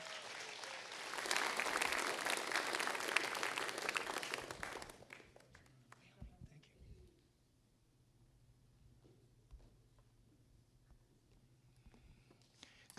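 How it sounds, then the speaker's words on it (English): A church congregation at a Mother's Day service breaks into loud, dense applause that lasts about four seconds and then stops abruptly, leaving faint room noise and a few scattered sounds. "Give him a big round of applause."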